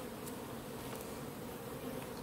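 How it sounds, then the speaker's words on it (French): Honey bees hum in a steady, soft, continuous drone around an open hive during a brood-frame inspection, with many insects buzzing close by and no voices. "Ça manque pas d'abeilles, hein."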